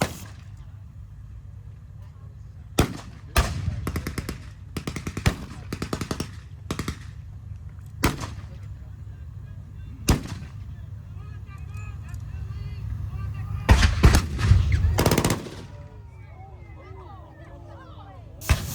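Loud bursts of gunfire and booming artillery blasts at a tank museum battle reenactment, arriving in irregular volleys with quieter gaps between them, while radio-style voices talk over the action.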